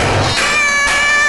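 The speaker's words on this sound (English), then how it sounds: "It's only a cat who lives next to the garbage can." A cat living beside a garbage can outside a mouse hole meows in an animated setting, a loud, drawn-out yowling cry with a second rising wail, close and alone with no talk.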